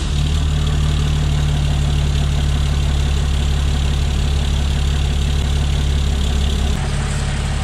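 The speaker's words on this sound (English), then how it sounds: "You always want to wait about a minute or two just idling so that turbo gets nice and oiled" A 2014 Ram 6.7 Cummins diesel truck engine idles loudly and continuously with a deep, steady rumble and faint knocking, then shifts slightly near the end.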